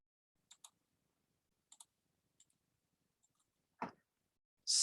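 Keys on a computer keyboard are pressed in a few sparse, quiet clicks, including a double tap, followed by a louder clunk and a brief burst of noise at the end.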